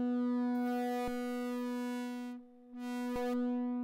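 A steady Eurorack sine tone runs through voltage-starved op-amps in a Blood Cells Audio Mangle module, holding a buzzy, harmonic-rich distorted drone with two sharp clicks and a brief dip near the end.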